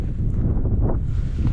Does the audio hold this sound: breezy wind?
yes